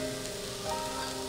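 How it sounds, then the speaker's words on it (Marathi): Grated sweet potato sautés in a pan with a soft, steady sizzle, faint and continuous, ending in a small clink. "खीस असं आपण परततोय"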